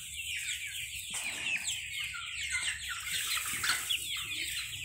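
Chickens of mixed breeds, including hens as big as laying hens, cluck and chatter steadily on a small family farm, several birds close by with overlapping calls and no talking.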